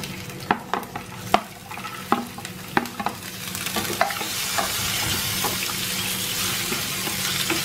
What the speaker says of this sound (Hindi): इन सबको मैं 1 टेबल स्पून ऑयल में हल्का सा फ्राई करूंगी।